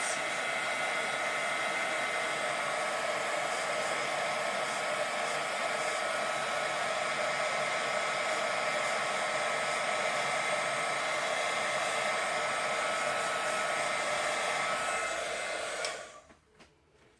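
A heat tool blows a steady, loud whirring hiss for about sixteen seconds while heat-setting stamped ink on a paper rose project, then switches off and the sound quickly winds down.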